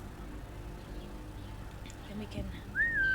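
A short rising-then-level whistle in the stealth game Assassin's Creed Mirage, sounding near the end of the clip over low game ambience, with someone talking just before it.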